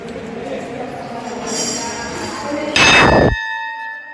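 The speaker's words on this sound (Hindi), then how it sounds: "सुदर्शन घंटी टांगल है," A large temple bell at a Sitaram temple in Sijaul village, Mithila, is struck once, giving a loud clang over background noise and faint voices, then a ringing tone that lingers and fades.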